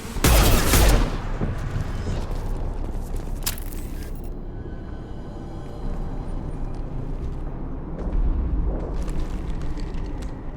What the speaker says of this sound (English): I'm taking friendly fire.